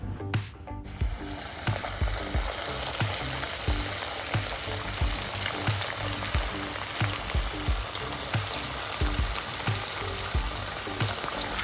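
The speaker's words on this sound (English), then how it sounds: "I'm gently throwing in the chicken." Steady, dense sizzling of chicken pieces frying in oil at about 350°F in a skillet, continuous crackle throughout with a brief clatter at the start as pieces go in.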